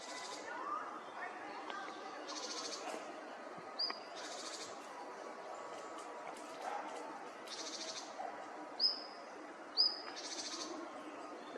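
Birds give sharp, repeated alarm calls aimed at a sparrowhawk, short bursts of high chatter rising again and again over steady background birdsong and outdoor noise.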